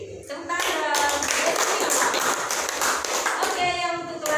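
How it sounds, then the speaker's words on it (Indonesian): Parents and students at a school meeting announcing best students clap hands together, a dense, fairly loud round of applause from close by, with a voice speaking briefly at the start and end. "Tepuk tangan."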